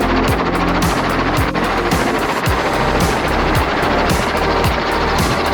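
Helicopter engine and rotor while landing: a loud, close, continuous turbine roar with a steady, rhythmic blade thump throughout.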